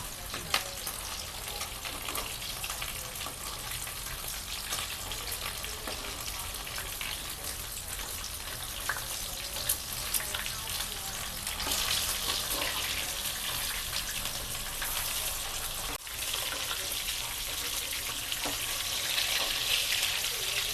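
Fish pieces frying Punjabi style in hot oil, a dense continuous crackling sizzle with scattered pops, steady and close throughout.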